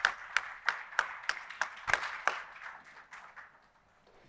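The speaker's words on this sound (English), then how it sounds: "let's give them a great round of applause" A small audience claps for the panelists at the close of a hybrid-work panel discussion at an HR tech event, sparse distinct hand claps in a loose rhythm that thin out and fade over a few seconds.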